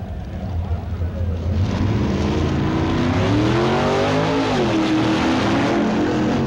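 Two Plymouth drag racing cars, one a lawman Plymouth, launch side by side at the AHRA and NHRA Winternationals, their engines roaring loudly and climbing in pitch as they accelerate hard down the strip.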